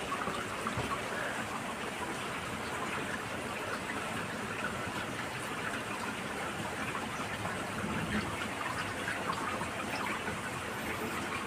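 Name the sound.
water running in an air cooler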